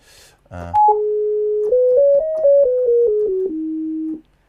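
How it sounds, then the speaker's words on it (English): A pure, smooth sine-wave synth tone plays a simple melody of sustained notes stepping up and down, ending on a long held low note. "so it is literally just the basic sine wave, and it sounds great"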